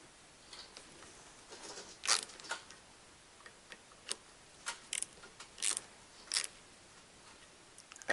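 Bolts on a power steering pump adapter are tightened during a Cummins B series engine swap, giving sparse faint ratchet clicks and short metallic ticks, irregular and fairly quiet against a low background hiss.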